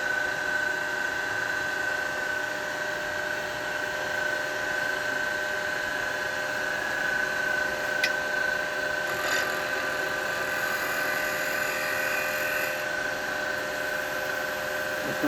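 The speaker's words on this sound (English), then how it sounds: "I'm going to clean that up with a detail chisel." A detail chisel cutting a wooden bowl on a lathe gives a steady, continuous whirring hiss with a constant tonal hum, unbroken for the whole stretch and with no voices.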